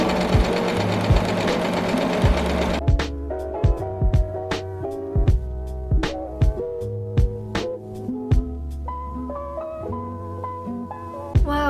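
A sewing machine stitches the upper part of a puff sleeve shirt that has been folded inside out. It runs in a fast buzzing whir at first, then slows into a series of separate thumping stitches. The sound is close and there is no talk.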